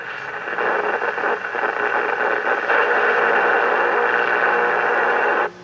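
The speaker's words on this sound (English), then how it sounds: "I'd like to know what this interference is, because I didn't have that earlier today, and it's quite loud and it's quite overpowering." Loud, steady buzzing interference fills a Realistic DX-150B shortwave radio receiver tuned near 7.5 MHz, a dense rasping hiss with faint rhythmic pulsing that holds for about five seconds, then cuts off abruptly.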